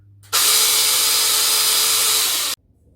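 A POWERWORKS 40V cordless pole saw runs in a single burst of about two seconds. Its high, steady motor whine cuts in sharply and stops abruptly, with quiet before and after.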